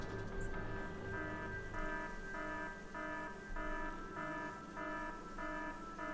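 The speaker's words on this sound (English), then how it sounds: "What's the alarm?" An alarm repeats in the Factorio: Space Age video game, a steady electronic tone that pulses in even beats of about half a second. It plays over continuous game music and runs for the whole stretch.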